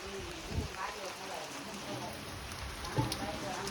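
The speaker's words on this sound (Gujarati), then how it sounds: "એવો વરસાદ ચાલુ થઈ ગયો છે" Steady, heavy rain hisses without pause, with a couple of soft thuds near the start and toward the end.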